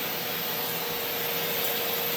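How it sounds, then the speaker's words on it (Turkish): A vacuum cleaner fitted with a soft brush attachment cleans a potted African milk tree cactus (Euphorbia trigona), giving a loud, steady, close whine and hiss that runs unbroken with no talking. "Şimdi de süpürgenin yumuşak fırçasını taktım."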